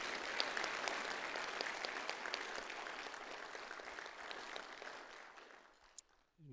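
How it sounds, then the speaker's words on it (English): Lecture audience applauds Dr. Gabby Hollows with sustained, even clapping from a sizeable crowd, filling the hall before fading out toward the end. "So can we just give her just a round of applause?"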